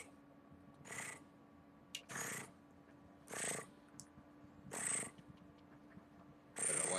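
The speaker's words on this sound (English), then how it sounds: "Better watch out, birdie. That sounds like a kitty." A cat purrs in rhythmic bursts, five or six rasping, ratchet-like swells about a second apart, moderately close and steady against a quiet hum.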